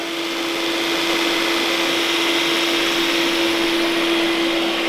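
A Dreame X50 Master robot vacuum cleans the floor with a loud, steady whir and a constant mid-pitched tone, running unbroken and close by.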